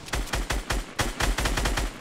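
Rapid gunfire in the Fortnite video game, about a dozen sharp shots in quick bursts at an uneven rhythm, loud and close with no speech over them.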